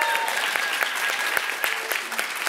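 Audience clapping at a conference, a dense steady round of applause from a crowd, fairly close and continuous throughout.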